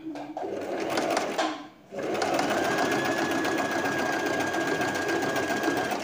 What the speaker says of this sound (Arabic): غادي نبدا الخياطه